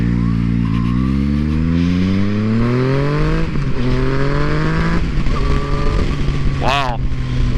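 A 2014 Yamaha FZ-09 motorcycle accelerates hard through several gears, its engine note climbing steadily and dropping at each shift, loud and close from the rider's position with wind noise throughout.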